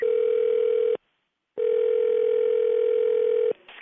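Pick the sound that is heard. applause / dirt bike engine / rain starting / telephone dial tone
telephone dial tone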